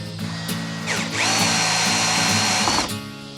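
A power drill drives screws to fix bun feet onto the underside of a bed, whirring loud and close in bursts, with one long sustained run through the middle of the short burst.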